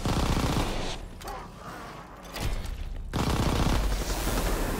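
Rapid, dense Tommy gun fire from Call of Duty: WWII Nazi Zombies rattles loudly and almost continuously, easing briefly in the middle before surging again.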